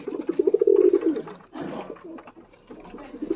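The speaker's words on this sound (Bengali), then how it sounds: "নাক্কা পায়রা দেখুন, আপনারা এবার নাক্কা পায়রা শখ করুন।" Fancy nakka pigeons coo in deep, throaty bursts, close and fairly loud, with a short pause midway and no talking.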